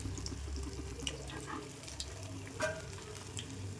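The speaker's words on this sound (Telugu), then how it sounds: "మంచిగా డీప్ ఫ్రై చేసుకోవాలి." Chicken pakodi deep frying in hot oil, a continuous bubbling sizzle with light splashy crackles, close and moderately loud, no talking.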